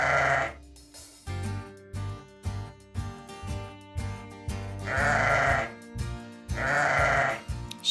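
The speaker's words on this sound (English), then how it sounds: "Sheep." Several loud sheep bleats ring out close by, separated by short pauses, with softer rhythmic thumps in between.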